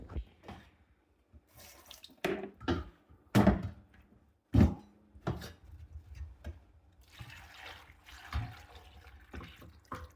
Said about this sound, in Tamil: லேசாக சுடுதண்ணி விட்டு தான் கழுவ போகிறேன்